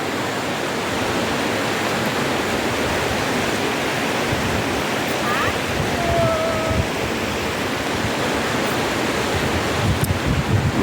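Kamata stream in full flow beneath a bridge near the Kotilingala temple in Adilabad, a continuous loud rush of water with a faint brief whistle partway through.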